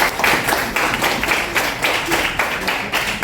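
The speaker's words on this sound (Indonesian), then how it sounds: "Berikan tepuk tangan ke Nepa ya." Classroom of students clapping for a classmate, a short burst of distinct, fairly quick hand claps in rhythmic groups, close and lively, with no voices over it.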